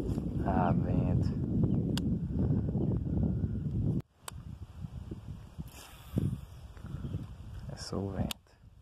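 Gusty wind buffets the microphone outdoors during a fishing trip, a low rumbling roar that swells and drops, with someone talking over it.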